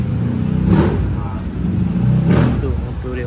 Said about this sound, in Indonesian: Tu motor dia. Fuh, cantik.